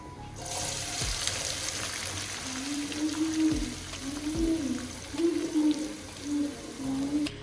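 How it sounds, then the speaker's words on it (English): Onions sizzle in hot oil for a danwake sauce with a steady crackling hiss, while a low warbling hum rises and falls underneath. "you heard that sizzling sound of onions touching the hot oil"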